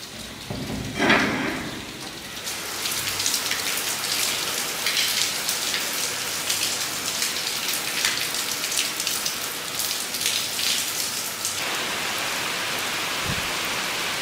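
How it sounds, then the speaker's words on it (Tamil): Heavy early-morning rain pours down steadily, a dense, loud, continuous hiss of drops striking surfaces nearby, with no speech over it. "ரொம்ப நாளுக்கு அப்புறம் பார்த்த மழை நல்லா பெஞ்சிருக்குங்க, ஒரு உழவு மழையே வந்திருக்குன்னு சொல்லலாம்"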